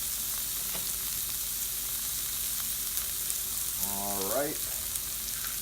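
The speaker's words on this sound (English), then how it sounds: "we're gonna let these onions cook," Onions cook down in a pan toward caramelizing, giving a loud, even hiss of frying throughout, with a short spoken phrase from a man rising over the sizzle near the end.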